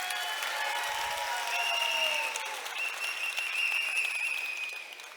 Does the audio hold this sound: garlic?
no